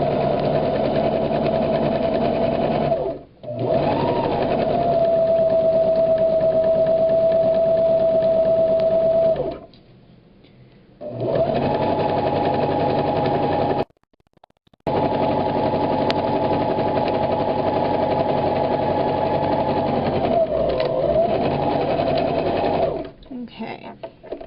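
A sewing machine stitches hair wefts in long steady runs, stopping briefly a few times before starting again. Its motor hum is close and loud.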